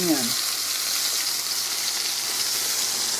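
Green tomatoes fry in hot grease with a loud, steady sizzle and crackle. It runs close and continuous throughout, with no voices.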